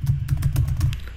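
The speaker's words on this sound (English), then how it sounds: "I'm just typing." Rapid keystrokes on a computer keyboard, a close, crisp burst of about eight clicks in quick uneven rhythm, heard alone.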